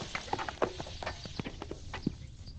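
Donkey hooves clopping on a terraced farm path among Sichuan pepper trees, a series of close, irregular walking clip-clops, fairly quiet with no talk.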